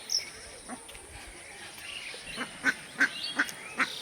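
Ducks call beside a mosque in Talgram, a few short honking quacks clustering toward the end over a faint background of insects and outdoor ambience, with no talk.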